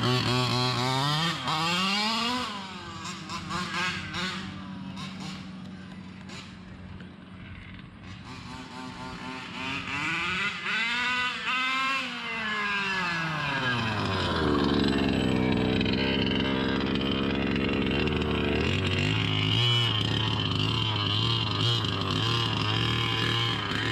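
A small gas engine runs loudly and close, its buzzing pitch rising and falling as it revs up, surges and settles.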